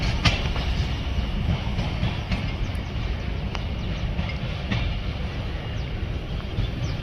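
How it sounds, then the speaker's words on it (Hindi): Train coaches run over railway tracks at a station, with a steady rumbling roar and periodic sharp clacks from wheels crossing rail joints, close and continuous. "Lovely track sound."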